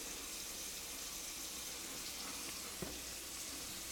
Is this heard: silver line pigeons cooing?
no